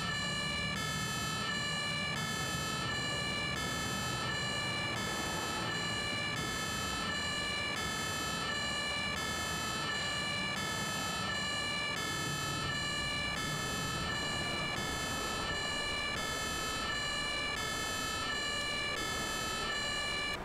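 Ambulance siren in the emergency-response game Emergency 5, a steady repeating electronic wail cycling evenly throughout, with faint background rumble beneath.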